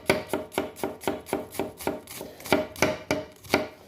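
A knife slices through onions on a cutting board in a steady rhythm of about fifteen crisp chops over four seconds, close and clear with no talking, while preparing a steak stir fry.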